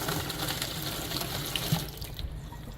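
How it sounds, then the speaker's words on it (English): A dishwasher running in a rental home's kitchen, giving a steady, continuous rush of running and splashing water at moderate level with no voices. "You want to make sure your dishwasher works as well. It sound like it's on"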